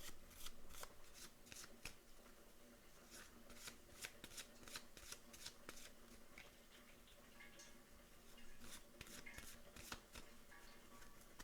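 Deck of face cards riffled and shuffled by hand indoors, a steady series of quick crisp ruffling bursts with brief pauses between them, fairly close and alone without talk.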